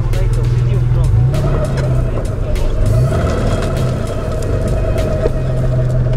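Off-road vehicles in mud with one wheel lifted in diagonal articulation: a loud, steady engine drone with rising revs of wheels spinning in mud, continuous throughout, with people talking over it.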